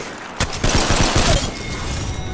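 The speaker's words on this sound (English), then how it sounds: "Incoming grenade." A grenade explodes in a battle royale video game as the ring closes, a sudden loud blast followed by a dense, rumbling burst of crashing noise that stays heavy to the end.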